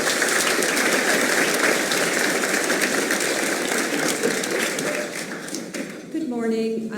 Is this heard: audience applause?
yes